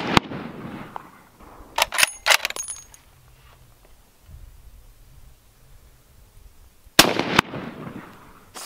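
Gunshots are fired at a rock outdoors: a loud sharp crack opens, a cluster of several quick reports follows, and two more loud shots come near the end, with quiet gaps between them.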